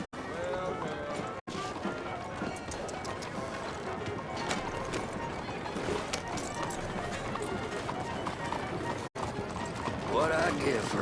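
Horse hooves clatter in a fast, continuous galloping rhythm in Red Dead Redemption 2, amid a dense, busy mix of other sounds, with voices faintly underneath.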